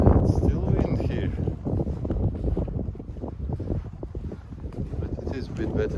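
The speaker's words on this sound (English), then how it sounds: "It's still wind here" Wind gusts across open desert dunes, buffeting the microphone with a steady, rough roar that swells and eases throughout, while a person talks over it.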